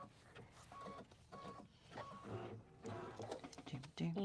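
A sewing machine stitches a ribbon casing through tape, its mechanical whir and clatter running in short bursts under close conversation from people nearby.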